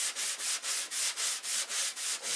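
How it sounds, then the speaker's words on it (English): Steady back-and-forth strokes of 320-grit sandpaper across doped aircraft fabric, a close, even rhythmic rasping of about nine passes with no talking. "We're sanding with 320"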